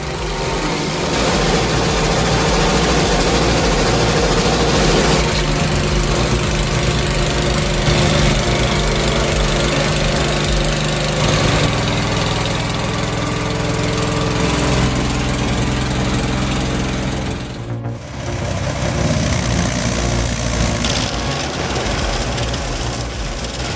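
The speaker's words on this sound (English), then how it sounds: "The Vermeer SC-222, with 36 pound-feet of torque, is grinding that 16-inch oak stump like it owes back rent." A Vermeer SC-222 stump grinder chewing through a 16-inch oak stump, a loud, continuous engine roar with grinding that holds steady and shifts pitch briefly near the end, with no voices.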